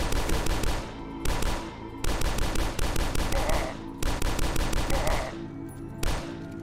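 Rapid automatic gunfire in the game DUSK, loud and close, coming in several sustained bursts separated by short pauses, with each burst made of quick repeated shots.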